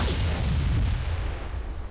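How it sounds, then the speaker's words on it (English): The MAC cannon in Halo 3 Forge fires with a heavy, close boom that rolls out into a long, low rumble and slowly fades over the couple of seconds that follow. "I just want to grab the Mac cannon and fire it"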